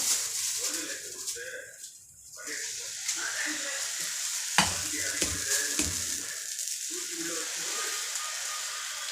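Onion half rubbed over a hot dosa pan for a green gram pesarattu, giving a steady close sizzle with scraping strokes and a quieter dip partway through, with faint voice-like sounds.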